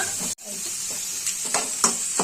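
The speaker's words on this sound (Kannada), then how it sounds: "ಇದನ್ನ ಇವಾಗ ಒಂದು 5 ನಿಮಿಷ ಎಲ್ಲಾ ತರಕಾರಿನೂ ಬೇಯವರೆಗೂ ಎಣ್ಣೆಯಲ್ಲಿ ಫ್ರೈ ಮಾಡ್ಕೊಳ್ಳೋಣ" Chopped vegetables frying in oil for veg fried rice produce a close, steady sizzle and hiss, briefly cut off near the start and then resuming with a few soft stirring clicks.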